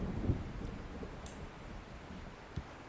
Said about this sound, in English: The storm is almost here.